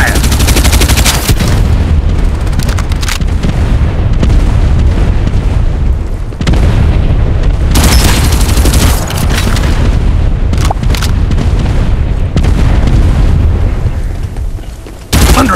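Farlight 84 mobile shooter gameplay: nearly constant loud gunfire and booming explosions, with rapid automatic bursts and heavy blasts piling up, broken by a couple of brief near-silent gaps.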